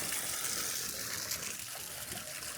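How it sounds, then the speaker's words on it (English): Garden fountains splash steadily in the grounds of Prague Castle, a continuous broadband wash of falling water that stays even and moderately loud throughout, with no voices over it. "I love all the fountains too. It's pretty relaxing hearing that in the back."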